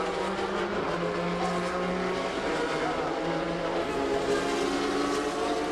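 Sportscars accelerate on the Magny-Cours circuit during a 2001 FIA Sportscar Championship race. Their engines drone steadily and blend together at moderate distance, with rising engine tones underneath.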